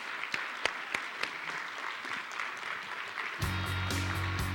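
An audience applauds a speaker at a fireside chat, with sparse distinct claps building into fairly quiet, moderately distant applause; music enters near the end.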